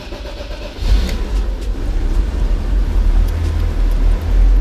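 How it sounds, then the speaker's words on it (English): A BMW M5 engine catches and settles into a loud, steady idle right up close, its deep rumble holding through the rest of the clip with no talking. "This is the first startup on camera, the M5 for you guys."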